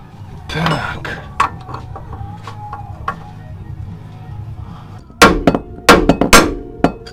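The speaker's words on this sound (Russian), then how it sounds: "Учимся работать съемником." Metal tie rod end puller being worked on a Mercedes W202 steering linkage, with sharp metallic clanks and knocks early on, a quieter stretch, then a loud cluster of hammer-like metal strikes close by near the end.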